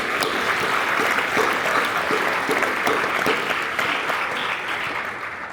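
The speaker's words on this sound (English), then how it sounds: "Can I give them a round of applause for their commitment?" A school board audience applauds for elected and continuing Board of Education members at a swearing-in ceremony, steady dense clapping that fills the room and fades slightly at the end.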